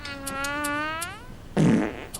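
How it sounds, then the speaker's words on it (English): A comedic fart sound effect from a movie: a long, wavering, tonal blat that slides in pitch, followed by a short, louder, noisier burst, heard alone and close. "It's the first sound effects that appears on YouTube when you search for fart."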